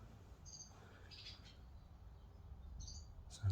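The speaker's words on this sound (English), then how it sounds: "Sounds like there's birds living in there somewhere." Faint, thin bird chirps sound a few times inside an abandoned building with vandalized toilets, with quiet, roomy background noise between the calls.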